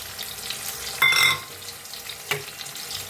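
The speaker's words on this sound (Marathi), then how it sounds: "ह्याच्यातच वटाणे बी भाजून घेऊया" Peas being stir-fried with mixed vegetables in a pan for a mixed vegetable curry, giving a steady close sizzle with a sharper burst of scraping and hissing around a second in and a brief clack later.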